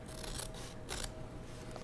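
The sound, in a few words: small scissors cutting felt fabric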